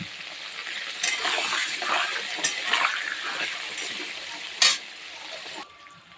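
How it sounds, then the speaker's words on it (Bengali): Cut potatoes land in hot oil with frying whole spices, a steady crackling sizzle with louder bursts as pieces drop in and get stirred, close and without talk. "এবার আমি কাটা আলুগুলো দিয়ে দেবো।"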